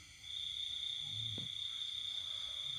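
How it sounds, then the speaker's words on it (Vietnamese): Crickets keep up a steady, high, continuous chirring at night at a countryside house, faint and unbroken, with one soft low thump partway through and no voices. "nằm võng nghe tiếng dế kêu."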